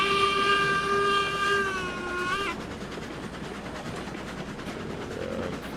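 Steam locomotive in the video game RailRoads Online pulling a train of new rolling stock, a loud whistle blast for about two seconds, then steady rumbling chuffing and rolling noise continuing alone.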